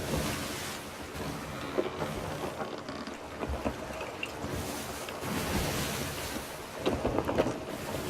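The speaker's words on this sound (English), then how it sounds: "My ship has still been sailing," Sailing ship at sea in the Sea of Thieves video game: steady rushing wind and water wash against the hull with waves swelling and breaking, moderately loud and continuous, no voices.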